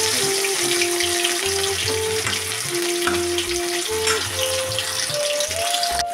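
Katla fish pieces rubbed with salt and turmeric frying in hot oil in a kadai, a continuous close hiss and crackle, with a steady tonal hum running underneath and shifting in pitch; no voices.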